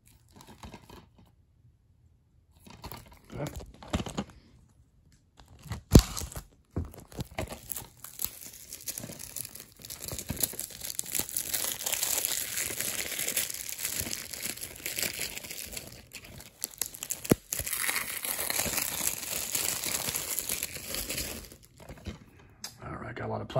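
Crinkling and tearing of plastic shrink wrap being pulled off a Bride of Chucky DVD case, close and fairly steady with a few sharp rips, under occasional speech.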